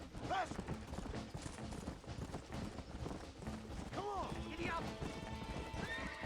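A horse gallops in Red Dead Redemption, with steady rapid hoofbeats and two sharp whinnies, while a person talks over the game audio.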